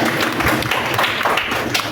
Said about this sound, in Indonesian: Tepuk tangan dulu dong untuk Mbak Utari